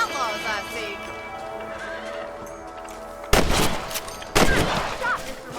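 A horse whinnies and hooves clip-clop in Red Dead Redemption, running on the RPCS3 emulator. Two loud bursts of gunfire cut in near the end over the steady game ambience.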